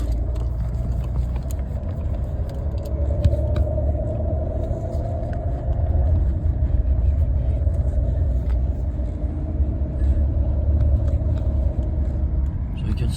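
A Jaguar XJ6 on a short test drive after speedometer repair work, its engine and road noise forming a loud continuous rumble from inside the car, with no talking.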